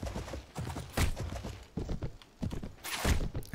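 Hoofbeats of a horse in the video game Mount & Blade with the Floris mod, a quick irregular clip-clop of galloping, moderately close, with no talking over it.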